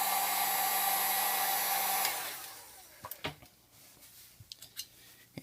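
A hot air blower heating a part inside an iPhone 5S during a Lightning port replacement roars steadily and close for about two seconds, then cuts off, leaving a few small clicks and taps.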